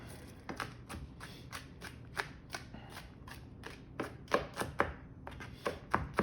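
A knife rhythmically mincing a large pile of garlic on a cutting board, producing a steady series of close, crisp chopping taps that quicken toward the end, with no talking.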